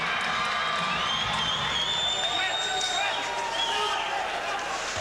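Arena crowd at a 1994-95 IHL ice hockey game between the Minnesota Moose and Atlanta Knights cheering and shouting steadily in a large, reverberant hall, a continuous wash of voices with whistles and whoops rising above it.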